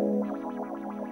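A sustained synth tone from an AlphaSphere pad with a rhythmic, watery filter sweep pulsing up and down several times, brief and moderately quiet.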